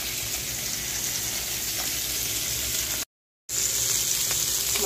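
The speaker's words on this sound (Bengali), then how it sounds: "কিছুটা ভাজা তুলে রেখেছি, আর এটা হলেই মাছ ভাজাটা হয়ে যাবে" Koi fish frying in hot oil, a steady close sizzle and crackle that carries on without talk and breaks off for a moment before resuming.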